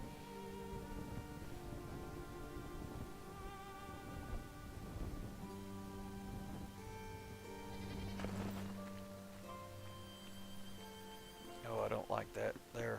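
Goats bleat in the Enshrouded video game, several short nasal calls over steady game music and ambient tones, with a voice talking across much of it.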